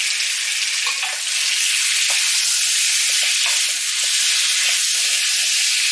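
Jambalaya ingredients browning in a hot pan give a steady, close, loud sizzle with bright hiss and occasional crackles and stirring sounds throughout, no voices.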